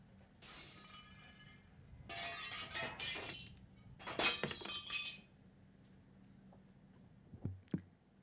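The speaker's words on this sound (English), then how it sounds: "That was the sound of crystal glass breaking." Crystal glass shatters in three separate bursts of breaking and tinkling shards, clear and close, followed by a few scattered clinks and thuds as pieces settle.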